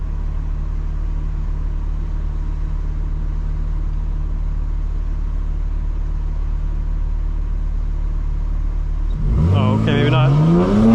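A 2025 BMW M4 Competition xDrive idles with a low, steady rumble for several seconds, then accelerates hard near the end, its engine note climbing quickly and loudly, with brief talk inside the car.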